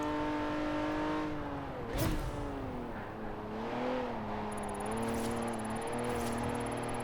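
A Honda car engine in Forza Horizon 4 revs and rises in pitch, then drops sharply at a quick shift and climbs again. Throttle swells and eases under steady control, with a high whine near the end.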